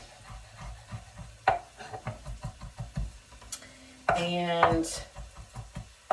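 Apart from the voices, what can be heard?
knife dicing cooked peeled vegetables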